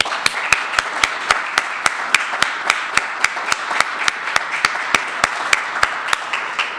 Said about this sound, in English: So I would love to give a big round of applause to our heroic veterans